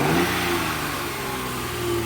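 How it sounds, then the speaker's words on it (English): A Kia Sedona with a V6 engine revs steadily after a jump start, the motor holding a close, continuous mid-pitched drone with slight rises in pitch and no talk over it. "Sounds pretty good. Has a V6 engine in it."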